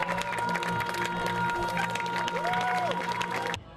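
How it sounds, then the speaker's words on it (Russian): Festival crowd clapping for cyclists at a season-opening event, a steady spread of applause with a sustained tone and some voices mixed in, cutting off abruptly at the end. "Давайте поддержим аплодисментами"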